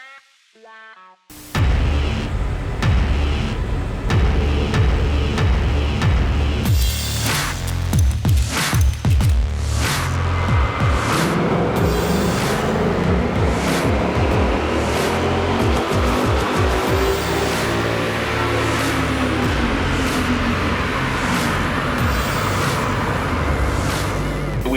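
A 2017 Ford Mustang on a chassis dyno starts up and runs hard, its engine roaring loudly and continuously with rising and falling revs, close and alone without talk.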